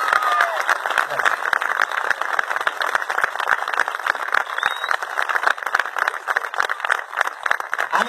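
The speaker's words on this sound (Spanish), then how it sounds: "Quiero que me regalen un gran aplauso" An audience applauds a comedian at a live stand-up humor show, steady dense clapping sustained throughout, loud and close without pause.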